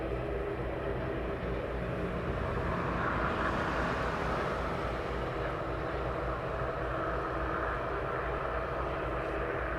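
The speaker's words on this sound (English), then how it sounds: "West Atlantic 737 on taxi to runway head into Edinburgh." A West Atlantic Boeing 737 taxis toward the runway at East Midlands Airport, a steady distant jet engine hum and rumble that holds level and continuous throughout, with no voices.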